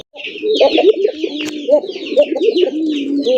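Gola pigeons coo close by in repeated throaty, rolling calls, overlapping one another against a busy chorus of higher chirps.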